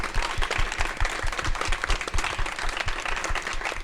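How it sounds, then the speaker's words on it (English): An audience applauds panelists at a Pride panel of LGBTQ+ entrepreneurs, a steady, dense burst of many hands clapping close by that holds strongly for the whole stretch. "Could everyone please give a huge round of applause to our panelists?"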